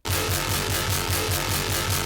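Dense dubstep synth bass pulses in a fast, even LFO wobble, roughly five throbs per second, loud and continuous with no voices.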